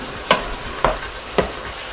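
Reconstituted mushrooms cook in a hot pan with a steady sizzle. Three sharp scraping stirs come at roughly even intervals, close and fairly loud, with no voices.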